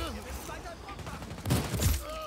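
Rapid bursts of gunfire in the Just Cause 4 video game during a kill, a quick cluster of sharp shots near the end over faint game sounds and a voice speaking.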